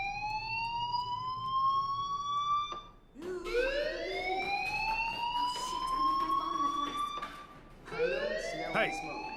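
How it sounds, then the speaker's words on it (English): A school fire alarm in the video game Life is Strange wails in repeated rising sweeps, loud and continuous, with brief pauses between cycles and a voice speaking underneath. "Hey, do you hear that fire alarm?"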